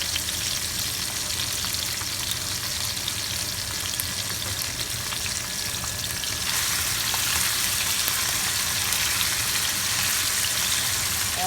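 Steady, loud sizzling of vegetables sautéing in a hot pan, a constant crackling hiss that swells slightly partway through, with no talking.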